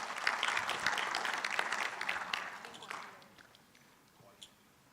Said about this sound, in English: Let's please give him a big round of applause.